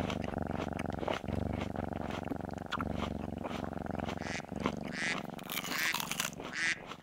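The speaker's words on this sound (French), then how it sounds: "Un chat. Un chat." A cat purrs steadily and close, a continuous low rumbling buzz with gentle rhythmic pulses from its breathing, a couple of slight breaks, and faint higher sounds near the end.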